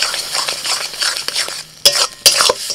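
Ridge gourd paste is stirred into fried onions in a pan, with a loud spoon scraping and knocking against the metal over a low sizzle, a short lull, then two sharp clanks, close by with no speech.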